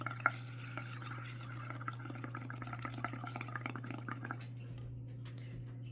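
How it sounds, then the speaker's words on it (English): Someone blows bubbles into a dye liquid for bubble-dyed paper, producing faint, soft gurgling and dripping over a steady low hum. "You can blow bubbles all you want now and it's cool."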